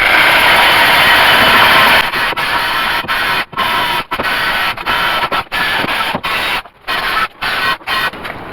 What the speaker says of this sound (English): now I'm just going to go to town with a wire wheel on these